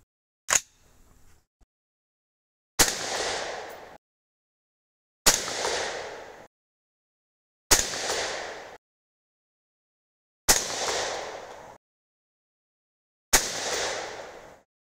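Five loud, sharp .223 Rem rifle shots firing 75gr Hornady BTHP loads, each a separate crack with a short decaying echo, spaced a few seconds apart, preceded by a faint click, with no talking.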